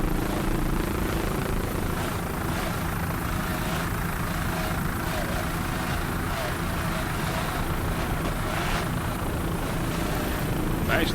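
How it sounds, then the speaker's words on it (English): Ford-powered racing powerboat with twin 2.5 EFI engines at a Miami grand prix, a dense continuous engine roar with throttle swells, heard from a distance without talk. "Nice throttling there by Lance Vincent."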